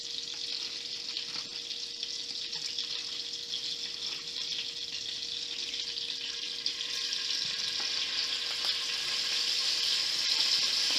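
Steady, crackling sizzle of marinated steak searing in a hot pan, growing slightly louder and more intense toward the end.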